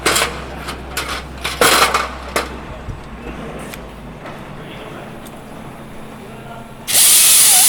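Rivets drilled out of a Lancaster NX611 bomber wing during restoration, short bursts of a power drill and metallic clinks up close, followed by quieter shop ambience and then a loud sustained high whine at the end.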